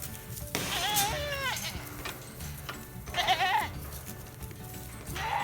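Goats bleat on a working farm in three separate wavering calls, fairly close, over low outdoor background noise.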